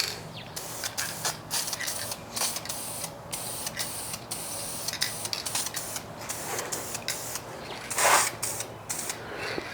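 A paint spray gun applies Metalcast paint in short, uneven hissing bursts, mostly at moderate volume with one louder spurt near the end, over a low background drone.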